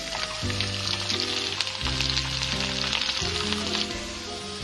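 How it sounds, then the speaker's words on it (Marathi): Cumin seeds, asafoetida and garlic sizzle and crackle in hot oil in a pan, a steady close frying hiss with scattered pops, while background music plays throughout. "आता आपलं तेल गरम झालेलं आहे, तर आपण प्रथम जिरे टाकून घेऊ, त्यानंतर हिंग टाकून घेतलेलं, लसूण टाकत आहे"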